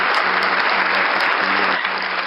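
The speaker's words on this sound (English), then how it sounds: "Y'all got to clap for everything" An audience at a live podcast taping claps loudly and steadily in a dense burst of applause, with faint low voices underneath.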